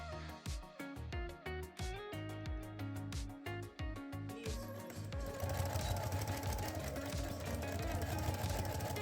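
A sewing machine stitches cosplay panels in a rapid, steady mechanical rhythm, first in short runs with brief pauses, then in one continuous run, close and fairly quiet.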